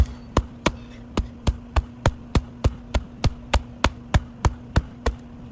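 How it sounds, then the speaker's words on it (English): A mallet smacks the pocket of a baseball infield glove during break-in, about fifteen sharp, evenly spaced thumps in a steady rhythm, close and fairly loud over a low hum. "getting our mallet and smacking up and down this area of the glove"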